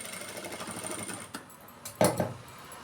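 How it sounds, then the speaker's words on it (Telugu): A sewing machine runs steadily while stitching a designer blouse, a continuous close mechanical whir, then pausing before a few short louder bursts near the end. "ఇంకొక కుట్టు కూడా వేస్తున్నానండి."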